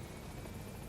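Steady, distant rotor drone of the Pequod helicopter arriving in Metal Gear Solid V, faint and continuous without variation.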